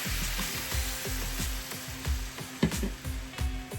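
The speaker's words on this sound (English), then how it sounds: "Let the wine kind of bubble and boil off." Cooking wine bubbling and sizzling in a hot pan while making chicken cordon bleu, a dense close hiss with a quick regular pulse of popping bubbles, steady and loud with no talking.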